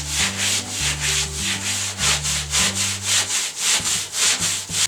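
Gritty side of a sponge scrubbing grout along a bathroom tub, a steady close rubbing rhythm of rapid back-and-forth strokes, loud and continuous with no talking.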